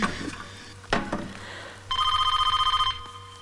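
A telephone bell rings in a continuous metallic trill for about a second, clear and fairly close, after some brief clattering and rustling noises in a room.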